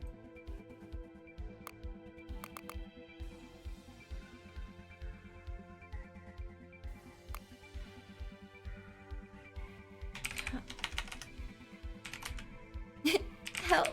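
Computer keyboard typing while playing a computer game, bursts of quick clicky keystrokes scattered over a steady electronic hum, with denser, louder runs of keys near the end.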